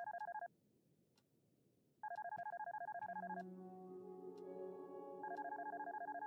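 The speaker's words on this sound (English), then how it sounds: "Let's answer the phone." An electronic phone ring in the PC game Darkness Within: In Pursuit of Loath Nolder trills in rapid repeated bursts, pauses, then returns while soft synth music tones play underneath, close and clear.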